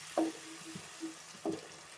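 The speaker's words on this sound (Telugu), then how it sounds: "ఈ టమాటా పేస్ట్ కూడా మంచి ఆయిల్లో ఫ్రై కావాలా" Tomato paste fries in oil for a masala cauliflower curry, with a soft sizzle under a couple of sharp clinks of a stirring spoon against the pan, close and quiet.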